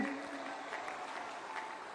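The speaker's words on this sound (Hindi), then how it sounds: "जरा जोर से ताली बजाना" Audience applause at a political rally in Chittorgarh, a broad steady clatter of many hands at moderate distance filling the short stretch, with no voices over it.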